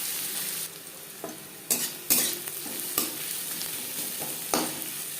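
Chopped onions hiss in a small amount of oil left from frying fish. A continuous sizzle runs throughout, with several sharp clanks and scrapes of a stirring utensil against the pan.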